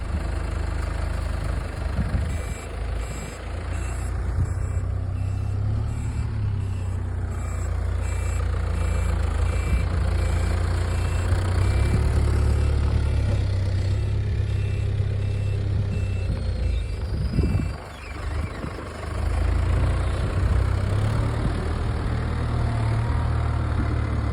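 A tractor pulling a seed drill out into a field for an attempted barley sowing, its heavy diesel engine droning loud and steady throughout with faint high beeping on top, no talk.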